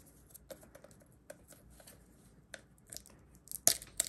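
A Yu-Gi-Oh Power Cube package being opened: scattered crinkles and clicks of plastic packaging with short, sharp tearing bursts near the end, close and fairly quiet, with no talking.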